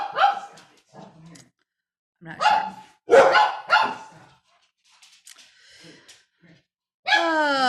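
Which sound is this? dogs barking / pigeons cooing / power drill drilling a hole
dogs barking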